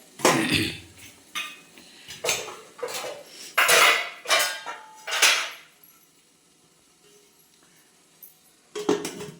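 Metal cookware clatters and clinks in a home kitchen as a lid is set onto a steaming pot of sweets, several sharp knocks in a burst over a few seconds, then quiet before a final clank.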